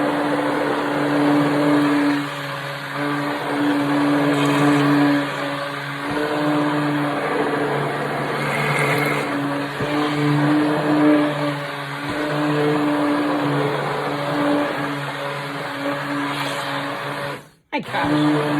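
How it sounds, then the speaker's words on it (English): A blender whirs steadily through sweet potato soup with maple and bacon, a loud, close motor drone with a constant pitch that holds for most of the stretch before cutting off sharply near the end. "I'm just going to blend it up."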